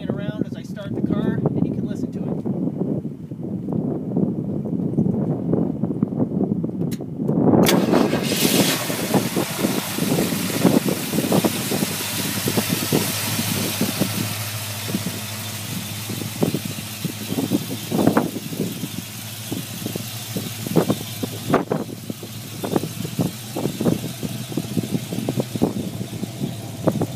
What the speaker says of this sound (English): I will let the video pan around as I start the car